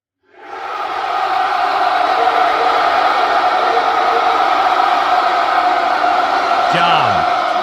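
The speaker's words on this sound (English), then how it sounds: "Massive cheer." A massive crowd roars at a California political event, a sustained, loud wall of cheering that swells in within the first second and holds steady to the end, with a brief whistle-like sweep near the close.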